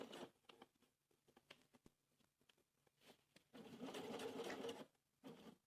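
Sewing machine top stitching a denim bib, running in short bursts of rapid needle patter with pauses between, then a longer steady run near the end, close and moderately loud.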